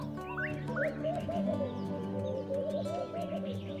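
Palm dove, also called laughing dove, giving soft repeated cooing phrases at close range, with faint chirps from other birds in the background.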